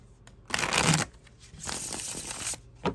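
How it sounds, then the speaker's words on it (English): Tarot cards being shuffled close up, quiet bursts of riffling and sliding card noise in two or three short runs with no talking. "Oh, I need to shuffle."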